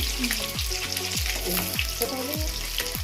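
Cauliflower frying in oil left over from frying eggs, a dense, steady sizzle with repeated bubbling pops and spits, close and continuous with no talking.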